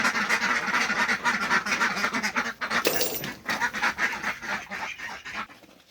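Chinese ducks on a farm where ducklings are falling ill quack loudly and continuously, a dense, overlapping chorus of harsh calls close by, with no talking.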